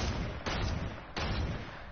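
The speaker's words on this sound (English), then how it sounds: "Oh, that was you shooting." Heavy booming gunshots in a video game, three broad blasts about half a second apart over a constant loud roar.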